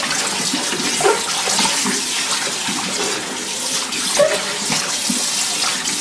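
Tap water running steadily into a sink while pork skins are rinsed of fat, a continuous close splashing hiss with a few small knocks of handling.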